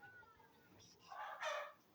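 Rwandan local chickens, hens and roosters, give a single faint, brief call that swells and fades over about half a second against a quiet background.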